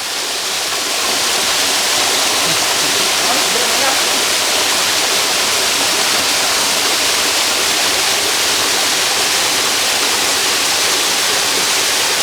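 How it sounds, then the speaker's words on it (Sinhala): Water pours down a forest waterfall into a stream, a loud, close, unbroken rushing roar that stays steady throughout with no pauses. "ඊය පාර ගලාගෙන යන ලස්සන බලන්න."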